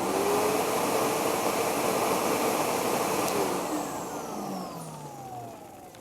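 A SEBO Automatic X4 upright vacuum cleaner runs with a loud, steady motor roar that then winds down in pitch and fades over the last couple of seconds.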